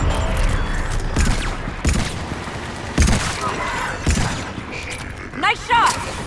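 Mass Effect gunfire during a battle on Thessia cracks in repeated loud bursts and booms over a rumbling background, with character voices speaking between shots.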